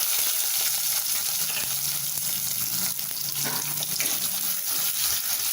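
Ten chopped small onions (shallots) frying in hot oil for a mushroom kulambu. The sizzle is close and continuous, a steady crackling hiss with no voices.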